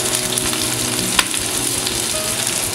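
Onion with green, yellow and red capsicum frying in a pan for chilli paneer, a steady close sizzle running throughout with one brief sharp clink near the middle.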